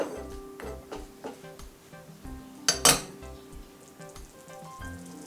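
A garam masala dish being stirred in a pot, with spoon and metal clatter against the pan over a low sizzle, plus one sharper loud scrape near the middle.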